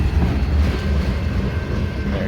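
A CSX ethanol tanker freight train rolls steadily past the Old Mill Bottom Road crossing in Mount Airy, Maryland, a continuous low rumble of wheels and cars, close and fairly loud.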